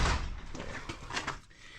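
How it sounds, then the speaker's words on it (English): A door on a Polaris RZR Pro XP 4 with a custom KRX 1000 cage is pushed shut in a workshop, giving a few soft knocks and a brief latching clunk at low volume. "let me see if I can shut this door"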